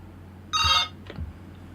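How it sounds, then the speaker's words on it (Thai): A telephone rings during a live Buddhist Dhamma teaching programme, one short, bright electronic ring burst followed by a faint echo and quiet room hum. "มีเสียงโทรศัพท์เข้ามาในรายการขออนุญาต"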